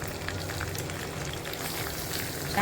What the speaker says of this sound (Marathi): ह्याच्यातच मी आपल्या शेंगा धुवून घेतलेल्या आणि त्यात परतवणार आहे.